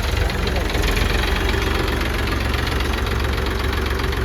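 A new 2023 Eicher 480 tractor's diesel engine idles steadily nearby, a constant low knocking rumble with dense mechanical noise throughout, and someone talks over it.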